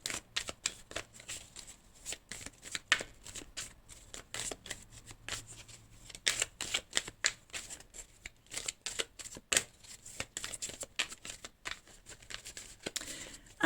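Tarot cards shuffled and drawn by hand, a long run of quick papery riffles and snaps close by, busy and uneven, with brief pauses between bursts.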